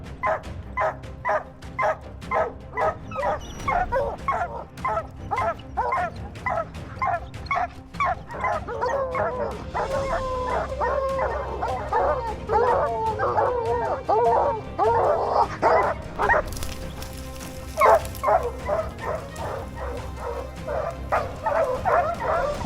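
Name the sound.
hunting dogs barking and whimpering during a wild boar hunt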